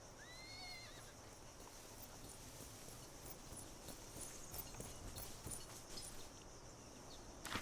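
Horses in the video game Expeditions Rome, with a neigh and whinny rising over a steady ambient game background and soft hoof clip-clop, moderately loud and continuous with no talk.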